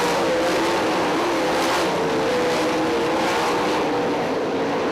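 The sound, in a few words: sprint cars racing on a track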